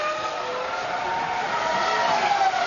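A 2003 Sauber Formula 1 car accelerates out of the pit lane after a drive-through at the Australian Grand Prix, its high-pitched engine whine rising steadily and loud, heard somewhat distant with no talk.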